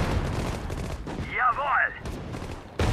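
Battle gunfire from the WWII strategy game Sudden Strike 4 on the German Operation Barbarossa campaign: rapid bursts of shots through the whole span, with a sweeping whistle in the middle and voices calling out over the fire.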